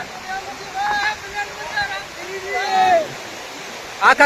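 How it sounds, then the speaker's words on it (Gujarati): Rushing monsoon floodwater pours through a village with a steady broadband roar, while people talk over it throughout. "હા એટલું પાણી આજ આવ્યું"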